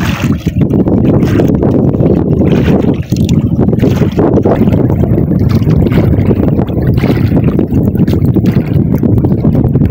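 Strong wind buffets the microphone in heavy, continuous gusts, with faint water sounds underneath, loud and rumbling throughout.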